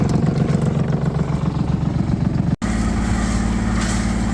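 A marine engine on a C&C 39 sailboat idles steadily, its exhaust spitting saltwater cooling water in a continuous close, loud rumble with a brief dropout midway.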